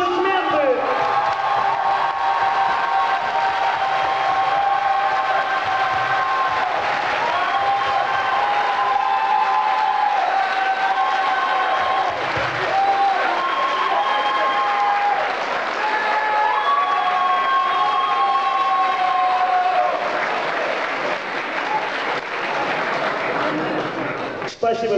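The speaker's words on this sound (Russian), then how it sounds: "Ваши аплодисменты!" Loud, sustained applause from a large audience, continuous throughout, with music playing underneath.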